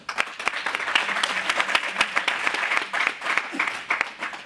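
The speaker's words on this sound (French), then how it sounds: "vos applaudissements" Audience clapping at a Paris investiture ceremony for a new section secretary general, a dense round of applause with distinct sharp claps standing out near the front, steady and fairly loud for the whole stretch.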